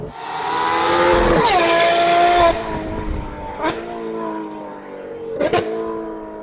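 A Ferrari 812 Competizione's high-revving V12 with a custom exhaust screams close by, pitch climbing and dropping through gear changes, followed by two sharp throttle blips.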